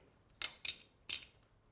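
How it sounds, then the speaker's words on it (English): Scissors snip tiny strips of duct tape in three quick, crisp cuts, close and quiet with brief pauses between them. "what I want to do is cut some tiny little strips here"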